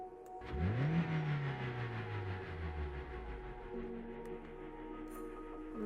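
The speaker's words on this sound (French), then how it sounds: "On entend le bruit d'un moteur." A car engine in the game RÖKI is heard as a vehicle approaches and passes, its whirring drone rising and then dropping in pitch before fading into a lower hum over quiet ambient music.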